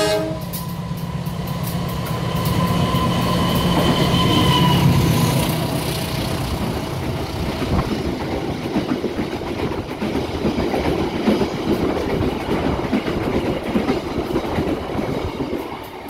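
The Serayu passenger train rumbles past in Indonesia with steady rolling clatter, and a horn sounds early on before the noise of the carriages takes over.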